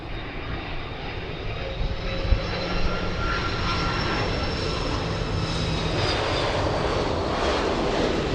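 A jet airliner roars steadily on departure from LAX in Los Angeles, a loud continuous engine drone with a broad rumble, sustained throughout without speech.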